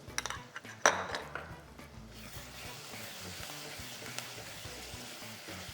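Two tablespoons of ginger garlic paste go into a pan of frying dhaba-style mutton keema: a few sharp spoon clinks against the metal pan at first, then a steady, moderate sizzle carries on alone.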